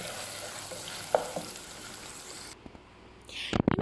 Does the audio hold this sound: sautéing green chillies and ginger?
yes